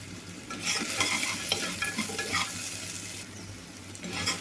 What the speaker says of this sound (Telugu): ఇవన్నీ మంచిగా వేగాలి